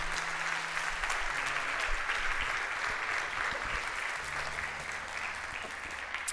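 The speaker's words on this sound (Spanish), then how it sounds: "Dale un aplauso al Señor" Congregation applause during a church sermon, a sustained wash of many hands clapping at moderate distance, with a low sustained hum underneath throughout.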